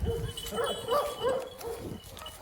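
An Anatolian shepherd Sivas Kangal dog barks several times in a steady series, fairly faint and somewhat distant, over outdoor background noise.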